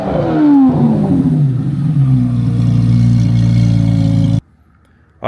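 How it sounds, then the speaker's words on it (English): A straight-piped Chevrolet Corvette C8 Z06 engine roars in a loud, close rev, its pitch sliding downward as it settles into a rumbling idle before cutting off abruptly near the end. "This C8 sounds absolutely ridiculous"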